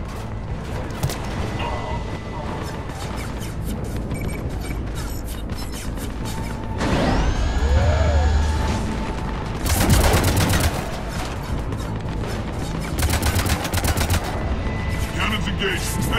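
Ship cannons fire in the Mass Effect 3 video game, heavy booming bursts at intervals over a dense, continuous rumble of battle noise, with a rising electronic whine in between.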